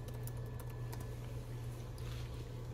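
Quiet, steady typing on a computer keyboard in a lab at a plate reader setup, soft rapid key clicks over a constant low hum.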